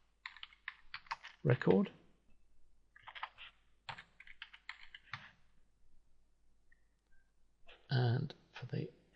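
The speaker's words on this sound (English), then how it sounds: "And in there I'm going to type Go to Previous" Text typed on a computer keyboard in short quick bursts of close, crisp key clicks, separated by pauses, with someone speaking briefly.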